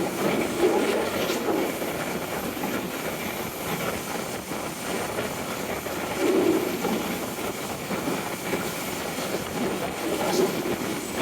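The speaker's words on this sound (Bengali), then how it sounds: "ট্রেনটা দেখুন" A train rumbles past at close range near the Jamuna River, a steady broadband roar with faint rhythmic wheel clatter and a few louder swells, continuous throughout.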